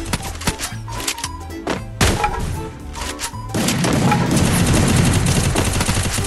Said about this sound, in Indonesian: Ini special shotgun one shot nih dari Garena nih